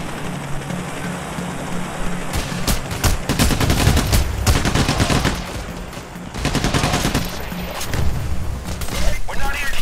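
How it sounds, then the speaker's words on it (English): Sustained gunfire in the video game Payday: The Heist during a bank robbery on hard difficulty, loud rapid bursts of automatic shots packed densely together, broken by a brief lull and then resuming, with occasional voices. "let's stop shooting the civilians, dude"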